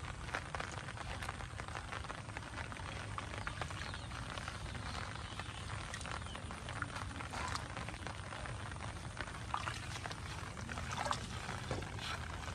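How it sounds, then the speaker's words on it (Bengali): Steady rain patters outdoors, a dense continuous hiss with scattered drips and splashes, fairly close, no voices. "বৃষ্টি পড়ছে"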